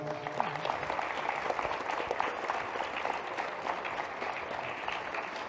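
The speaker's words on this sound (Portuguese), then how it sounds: "vamos receber o Paulo com uma salva de palmas" Steady, even applause from an audience at a Portuguese-language talk as a guest is welcomed onto the stage. The dense clapping continues without a break for several seconds at moderate volume, with no speech over it.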